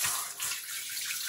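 Tap water runs steadily into a sink as it is brought to lukewarm for stretching watercolor paper, a close, continuous hiss and splash with no voice.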